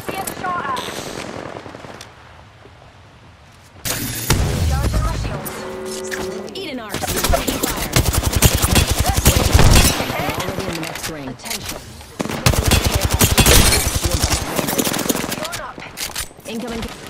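Rapid automatic gunfire in the battle royale shooter Apex Legends during a ranked match, with bursts of close, loud shots and overlapping fire, a quieter lull early on, and a player talking over the action.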